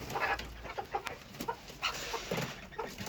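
Chickens cluck softly in short, scattered calls close by, with faint rustling and farmyard background noise throughout.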